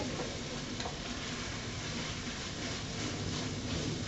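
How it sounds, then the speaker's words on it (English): Spoon stirring a chili meat mixture with onions and garlic in a pot gives a steady low scraping and sizzle that runs unbroken throughout, close and moderately loud, with no voices. "now we're gonna stir our meat mixture up here with the onions and your garlic"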